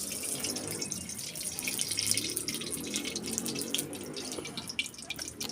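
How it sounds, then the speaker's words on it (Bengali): Mustard oil pours into a hot wok in a home kitchen, giving a steady hissing, watery stream that runs throughout at a moderate level with no talk. "আমি সর্ষের তেল দিয়ে দেব।"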